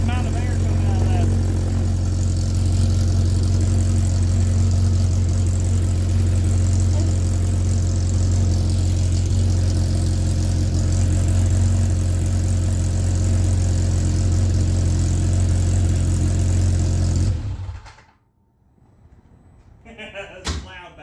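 A Polaris RZR Pro R with a side-exit exhaust idles with a loud, deep, steady engine rumble for about seventeen seconds, then cuts off abruptly, followed by brief thuds and voices talking.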